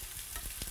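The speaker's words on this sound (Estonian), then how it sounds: "Võime need sibulad siia panni peale praadima." Red onions sizzling in a hot frying pan, a steady close hiss with a couple of brief stirring scrapes, no voices over it.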